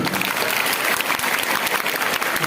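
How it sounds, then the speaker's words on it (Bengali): Applause at a school farewell ceremony for a retiring teacher: a dense, steady burst of many hands clapping together, loud and continuous from start to finish, with no distinct voices above it. "তোমাদের জন্য নিজেরা একটা হাততালি"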